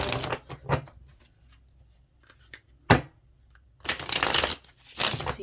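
Oracle cards being shuffled by hand, bursts of riffling and sliding card noise at the start and end with a sharp flick in the middle, close and fairly quiet, no talking.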